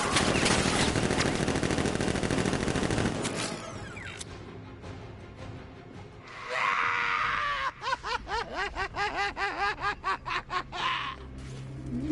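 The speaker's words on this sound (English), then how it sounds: "Open fire! Shoot everything, now!" Militia gunfire in the video game Batman Arkham Knight: a dense stretch of loud automatic fire, a short lull, then bursts of rapid shots over a high screeching tone, close and intense.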